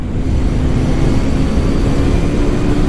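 A Voge 350AC motorcycle, a small bike, is ridden hard, a steady close engine drone with wind rush that stays loud and even throughout, with no talk.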